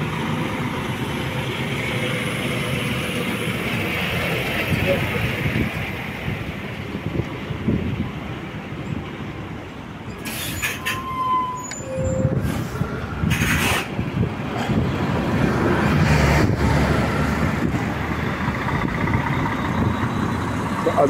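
Road traffic sits in a jam near a roundabout on Dunstable Road and Poynters Road in Luton, UK, with cars and trucks idling. A steady, close rumble of engines runs throughout, with wind buffeting the microphone and a few passing vehicle sounds.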